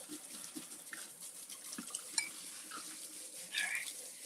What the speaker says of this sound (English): I'm just gonna rinse this off